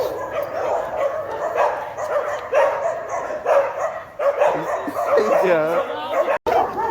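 Dogs bark repeatedly and excitedly at a gate, sharp yaps and whimpers coming in rapid rhythmic bursts close by, with people talking over them.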